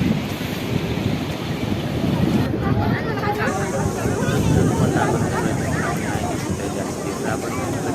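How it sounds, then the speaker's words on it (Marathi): Cool evening wind gusts across Murud beach near Dapoli on the Konkan coast, a steady blustery rumble on the microphone mixed with distant surf, with people talking faintly in the background. "एक नंबर गार वारा"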